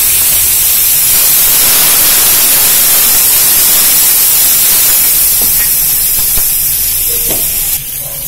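Tomatoes and curry leaves sauté in a pan for a soup, giving a steady, loud sizzling hiss that runs unbroken throughout with no talking.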